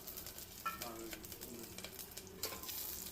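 Whole spices with garlic and ginger sauté in a pan, a soft steady sizzle with occasional stirring scrapes and clinks, quiet and close.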